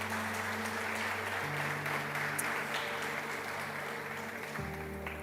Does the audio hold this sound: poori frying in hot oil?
no